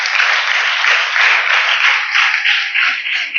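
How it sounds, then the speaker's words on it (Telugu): A church congregation at Sunday Mass breaks into loud, sustained applause, dense rapid clapping from many hands that stays full and even for several seconds without pause. "చప్పట్లు కొట్టండి అందరూ కూడా గట్టిగా."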